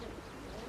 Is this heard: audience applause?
no